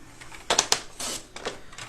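Paper sliced on a guillotine trimmer while making a decorative scrapbook pennant: a few short crisp cutting strokes, close and fairly quiet, with sharp clicks of the blade.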